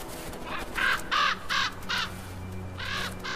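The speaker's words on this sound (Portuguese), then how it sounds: "Um banquete para os corvos." Crows cawing over a carcass in a harsh far-northern winter landscape: about six rough, hoarse caws in uneven bursts, fairly close and clear, with no other voices.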